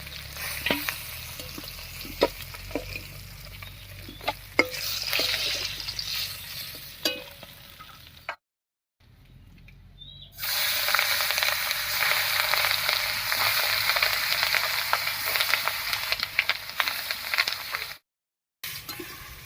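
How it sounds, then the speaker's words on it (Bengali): Fish pieces fry in hot oil in a Bengali kitchen and are turned with a spatula, giving sharp scraping clicks and sizzle, then after a short gap a loud continuous frying hiss. "মাছগুলো উল্টে পাল্টে বেশ লাল লাল করে ভেজে নিয়েছি"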